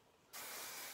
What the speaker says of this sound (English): So I will just spray